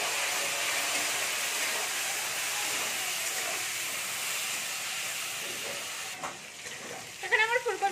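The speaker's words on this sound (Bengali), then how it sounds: "এর মধ্যে একটু নুন আর একটু হলদি দিয়ে দেবো। একটু ভেজে নেবো এগুলো।" Cauliflower fries in oil with salt and turmeric, making a steady, close hiss of sizzling oil, then a few clattering stirs and knocks near the end.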